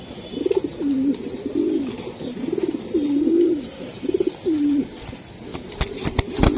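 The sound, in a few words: grizzle racing pigeon cooing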